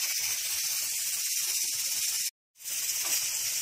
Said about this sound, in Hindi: अपनी कुकर को 2 सीटी आ गई है,